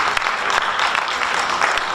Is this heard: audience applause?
yes